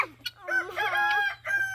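A chicken cackles and crows in a loud, close burst of drawn-out calls, ending with a second shorter cry.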